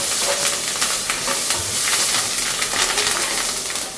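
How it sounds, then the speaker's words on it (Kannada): Spices for tempering sizzle loudly in hot oil, a steady close hiss with crackling bursts that runs unbroken throughout, with no talk. "ನೋಡಿ ಒಗ್ಗರಣೆ ಹಾಕ್ತಾ ಇದ್ದೇನೆ."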